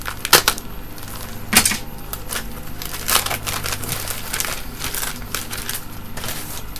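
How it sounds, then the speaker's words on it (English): Comic book packaging is ripped open close by, giving a string of crinkling, tearing and crackling bursts with irregular louder snaps. "Gotta rip this open too."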